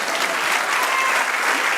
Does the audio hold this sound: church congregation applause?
yes